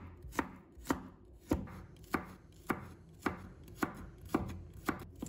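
A knife slicing garlic cloves into pieces on a cutting board, about ten crisp, evenly spaced chops close up, each a sharp knock with a short tail, no voices.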